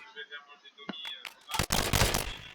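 Scorpion submachine gun fired in the video game NationsGlory, a dense burst of rapid shots in the final second after quieter tonal game sounds and a couple of short clicks.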